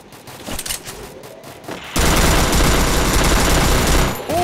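Rapid automatic gunfire from a gun in the Counter-Strike video game, a loud sustained burst that starts abruptly after quieter game sounds and runs for a couple of seconds, with no talk.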